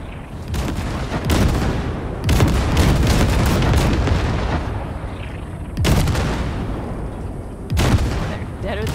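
Heavy gunfire from the Basilisk hovertank in Cyberpunk 2077 blasts at wrecks in repeated loud bursts and booming impacts, several volleys separated by brief lulls, with a voice speaking partway through.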